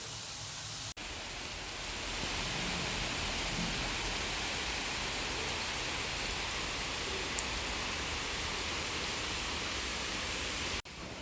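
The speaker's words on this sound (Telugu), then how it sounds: "ఇప్పుడే వర్షం మొదలైంది." Continuous, even rain hiss, fairly soft and distant, holding steady throughout with no voices.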